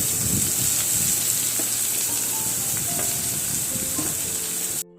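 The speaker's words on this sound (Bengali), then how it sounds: "আর এই যে এখানে উচ্ছে ভাজাটা বসিয়েও দিলাম।" Sliced bitter gourd frying in a pan at home, a loud continuous sizzle close by with faint clinks and stirring scrapes, cutting off abruptly at the end; no one speaks.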